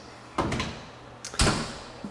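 The door of a vintage kitchen stove is opened with two distinct knocks, a light metallic clunk followed by a louder thud, close by in a quiet room.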